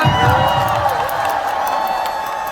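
A concert audience cheers, whoops and applauds for a singer, a loud continuous crowd roar with shouting voices across the whole stretch.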